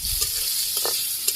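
Vegetables fry with salt, chili powder and turmeric in a pan, giving a steady close sizzle broken by a few light stirring scrapes.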